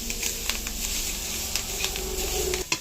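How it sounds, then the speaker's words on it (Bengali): Leafy greens (shak) fry in a pan with a steady, close hiss and sizzle, punctuated by a few faint clinks and stirring taps. "এই যে শাক ভাজা করছি"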